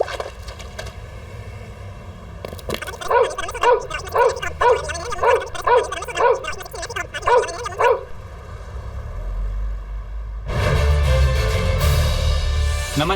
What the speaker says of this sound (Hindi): आपने देखा कि कैसे एक कुत्ता एक लड़की को दौड़ा रहा है